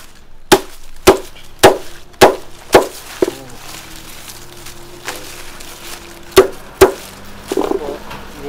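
Banana leaves are chopped with a bolo knife while a mushroom growing bed is prepared: about nine sharp, close cutting strikes. The first six land in a quick, steady run, and a few more follow after a quiet pause.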